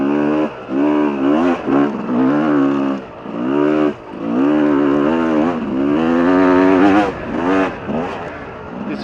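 A motorcycle engine revs loudly and close as the rider leans it through a sand corner, rising and falling pitch sweeps with brief dips between throttle pulls, no voices present.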